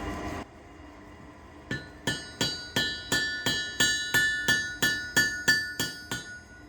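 A hammer strikes metal in a steady rhythm, about a dozen sharp ringing blows in quick succession after a short pause, close and loud.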